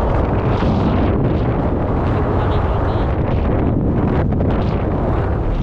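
Strong wind gusting along a shallow shore where a jetski ran aground, a loud, constant roar buffeting the microphone for the whole stretch, with no clear talk on top.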